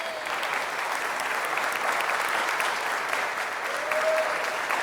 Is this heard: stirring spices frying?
no